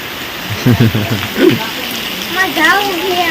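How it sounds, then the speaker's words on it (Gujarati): Steady rain hisses throughout while someone talks over it. "વરસાદ વરસાદ"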